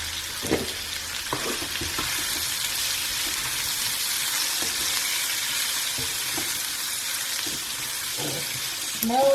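Turmeric, coriander and red chili spices sizzle steadily in a frying pan, a constant close hiss with occasional soft stirring scrapes and clinks.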